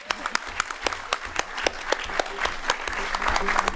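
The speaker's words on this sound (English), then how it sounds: "Round of applause, please." Scattered clapping from a small crowd, a run of sharp claps building slightly toward the end.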